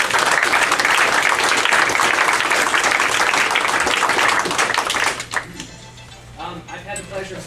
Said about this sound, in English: let's give a round of applause to the volunteer staff.